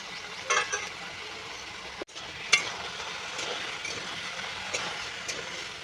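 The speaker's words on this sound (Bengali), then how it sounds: "এই সমস্ত সবজিগুলো তেলের মধ্যে খুব সুন্দর করে ভাজা হবে" Vegetables and green bananas frying in oil while being stirred, giving a quiet, steady sizzle with occasional scraping and clinking of a spoon against the pan.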